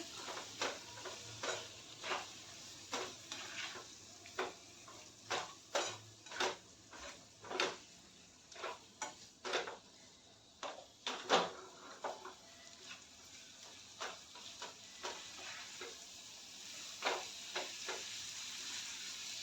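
Spoon stirring prawns through sizzling masala in a pan, giving many quick scraping and tapping strokes in an uneven rhythm over a faint sizzle, close but quiet, with no talking.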